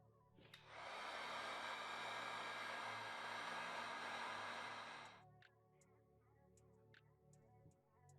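A heat gun heat-activates glue on a Jordan 12 sneaker being restored, roaring as a steady, loud blowing hiss for about four and a half seconds before cutting off, leaving faint ticking.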